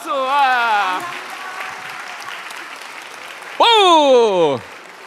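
A church congregation at a Friday evening worship service applauds warmly, with loud excited shouts and cheers rising over the clapping, the voices swelling again near the end.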